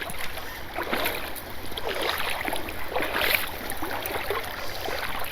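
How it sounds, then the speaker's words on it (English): Someone wades across shallow White Clay Creek, a trout creek in Delaware, in boots, with close, irregular splashes and sloshing of moving water. "walking across the creek here."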